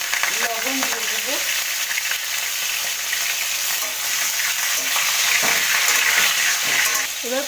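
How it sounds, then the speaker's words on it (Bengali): Pointed gourd fries in a pan with a loud, continuous sizzle up close, joined by scraping stirs and brief clanks as the pieces are turned. "এবার পটলটাকে আমি একটু নেড়ে নিলাম"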